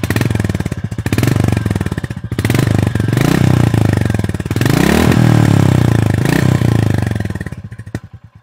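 A Royal Enfield Goan Classic 350 motorcycle's slash-cut exhaust thumps loudly and close in a deep, rapid, pulsing beat, rising and falling with the throttle before cutting off.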